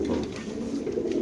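A black racer pigeon cooing, a soft continuous low throaty burble close by and alone, with a steady murmuring pulse throughout.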